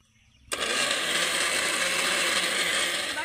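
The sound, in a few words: mixer grinder blending mango and sugar into paste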